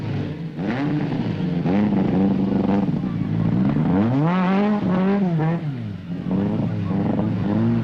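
Loud engines of 1972 East African Safari Rally Ford Escort works cars rev and roar as they race past, pitch rising and falling with gear changes, continuous and close.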